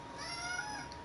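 A cat named Shadow lets out a single short meow up close, a thin sustained cry with no voices over it.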